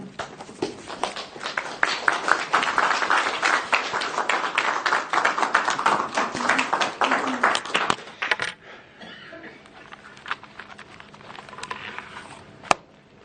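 A church congregation claps to welcome a speaker at a revival meeting, a dense, lively patter of hands that holds for about eight seconds before stopping abruptly, leaving quiet room sounds with a few stray taps.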